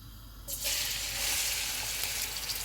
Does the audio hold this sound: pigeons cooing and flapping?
no